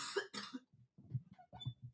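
A man coughs twice in quick harsh bursts, then follows with a few lower, muffled throat-clearing coughs, close to the mic and heard without any speech.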